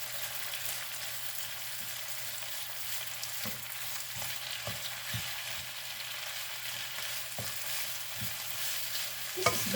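Miso and milkfish sauté in a small amount of oil, a soft constant sizzle broken by regular utensil scrapes and taps as the pan is stirred.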